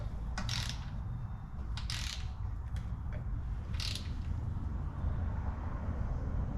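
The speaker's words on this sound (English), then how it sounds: "we'll torque these down" Torque wrench tightening bolts during assembly of a Dodge 360 engine from a 1981 D150, with a few short clicking ratchet bursts spaced apart over a steady low background hum, close and fairly quiet.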